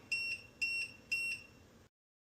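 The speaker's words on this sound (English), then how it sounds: "click set on the remote and wait for 10 beeps" Three short, shrill electronic beeps at an even pace from a ynVISION YN-LIFT motorized TV lift pairing with its remote, then silence.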